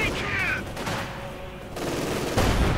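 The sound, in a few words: machine gun fire in Company of Heroes 2 video game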